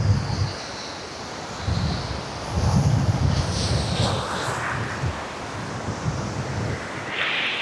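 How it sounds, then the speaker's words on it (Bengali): Ocean waves break and wash in repeatedly at Kuakata beach, a steady surf roar with gusts of wind buffeting the microphone. "ঢেউ কত সুন্দর লাগে"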